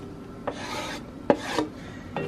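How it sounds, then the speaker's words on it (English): A whole 8-ounce package of mushrooms sauteing in a pan that is not yet fully hot, heard as three close, rasping scrapes and stirs, each about half a second long, separated by brief quiet gaps, with no talking. "So I'm going to start by sauteing my mushrooms."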